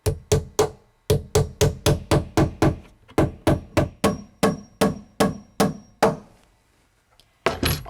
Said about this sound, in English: I'm going to nail this right into the stud.